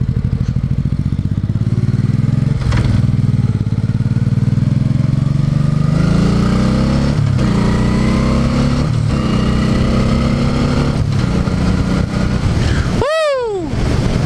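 A small, modest-powered motorcycle is ridden in cold weather outdoors, its engine droning loudly and continuously up close with rising and falling revs, wind noise throughout, and a whooping shout near the end.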